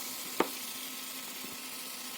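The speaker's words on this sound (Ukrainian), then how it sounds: "Воно починає шкварчати, тому я вже беру ложку і ложкою це все активно починаю вимішувати." Butter pieces sizzle in a pan of dry-fried flour over low heat, giving a steady faint hiss with one brief spoon knock.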